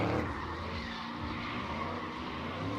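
A supercharged 5.4-liter GT500 drift car at a drift track event, tires squealing in a long continuous screech over the engine's roar, loud and sustained throughout.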